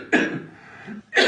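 A man coughs twice, a harsh burst at the start and another about a second later, close and moderately loud in a quiet room.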